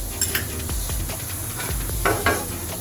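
Hot oil sizzles in a pan while paneer is fried for paneer bhurji, a steady hiss broken by scraping stir strokes and soft clinks of a spatula.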